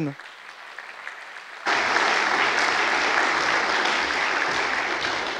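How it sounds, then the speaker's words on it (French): Loud audience applause bursts in suddenly and continues steadily as panelists join the stage at a conference event, following a short stretch of quieter room sound. "Vous pouvez les applaudir."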